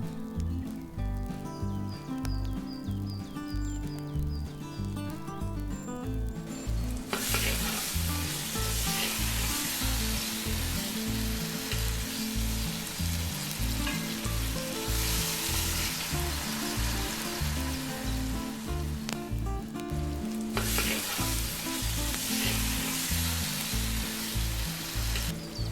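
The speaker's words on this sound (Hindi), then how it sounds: "इसमें डाल देते हैं थोड़ा सा नमक ताकि प्याज जल्दी भुन जाए।" Onions fry with salt over a high flame, a steady close sizzle with rhythmic stirring scrapes throughout, bursting brighter at moments, no voices.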